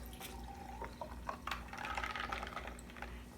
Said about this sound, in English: half full of ice, and then top it off with some water